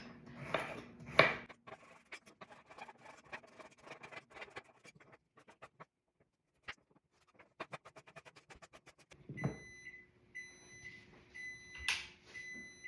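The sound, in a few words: kitchen timer beeping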